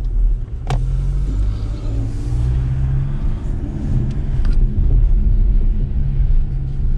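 A Volkswagen/Audi 1.9 TDI 110 hp diesel car, running after an injection timing adjustment and having had hard starting, accelerates in second gear with a steady loud low engine rumble throughout and a brief sharp knock near the start.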